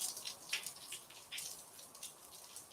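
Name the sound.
heavy rain falling outside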